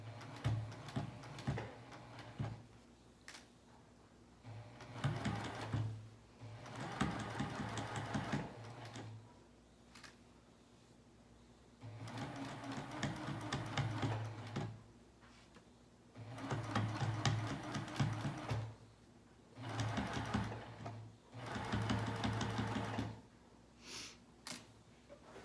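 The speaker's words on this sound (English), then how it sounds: "So as I'm sewing right now, I'm sewing down the pocket." A sewing machine stitching down a pocket, running in several steady whirring bursts of a few seconds each, separated by quiet pauses.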